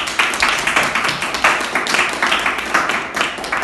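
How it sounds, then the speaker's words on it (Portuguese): Audience applause at a Portuguese-language testimonial gathering, a steady wash of many hands clapping at moderate distance, sustained evenly throughout without pause. "Uma salva de palmas para o Marco A."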